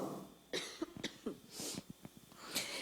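A preacher coughs during a church sermon, several quick dry coughs and throat clearing in short bursts, fairly faint and close, with no speech.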